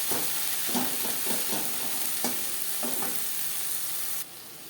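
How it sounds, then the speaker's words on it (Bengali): Onion, tomato and spices with salt are stirred in a pan, with a steady sizzle of frying under a series of scraping strokes of the spoon, close and fairly soft. "পেঁয়াজ টমেটোর সাথে ও মশলার সাথে লবণ বেশ ভালো করে মিক্স করে নেব।"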